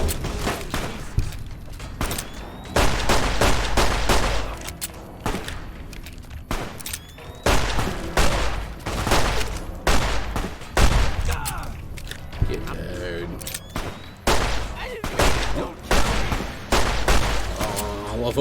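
Fallout: New Vegas combat, repeated heavy gunshots and booming impacts in irregular bursts across the whole stretch, loud and close, with a voice talking in between.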